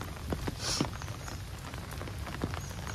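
Heavy rain falls on a creek in Konkan during crab catching, a soft, steady hiss with a few faint scattered thuds, quiet and continuous with no talk.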